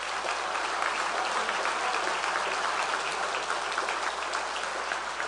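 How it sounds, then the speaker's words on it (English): Sustained audience applause at a university spring convocation ceremony, a dense steady wash of many hands clapping at a fairly distant, even level throughout with no voices over it. "let's give Steve, Nora, and Lee another round of applause"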